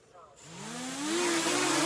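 Motors of an FPV drone spin up from silence, their whine rising in pitch into a loud, steady rushing buzz close by.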